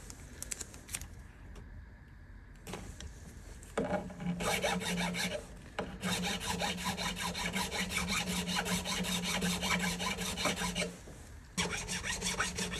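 A small file rasps through a guitar nut slot on a 1953 Gibson L-50 under restoration. Close, continuous strokes run in long stretches separated by brief pauses, and there is no speech.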